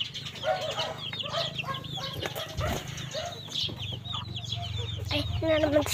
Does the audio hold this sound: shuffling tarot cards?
no